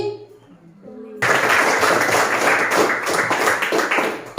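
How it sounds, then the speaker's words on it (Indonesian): Audience clapping at an Indonesian speech or talk event, starting abruptly after a quiet moment with faint voices, then holding a fairly loud, dense burst of hand claps that continues steadily to the end. "Tepuk tangan dulu"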